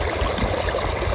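Water gushes steadily from the outlet of a PTO-driven 6x4x4 water pump run by an Eicher 242 tractor, a loud, dense, unbroken rushing and splashing close by.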